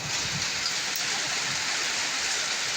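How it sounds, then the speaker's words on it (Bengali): Hail falls on sand during a kalbaishakhi storm in Barishal, heard as a steady crackling patter of many small impacts, close and continuous, with no voices. "ওই বালুর উপরে শিল পড়তেছে আরো"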